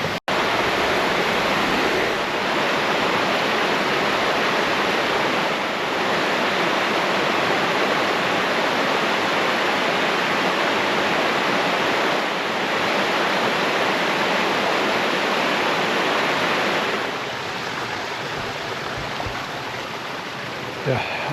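The Troll Waterfall in the Norwegian wilderness roars as a dense, unbroken rush of falling water, loud and close, easing slightly toward the end.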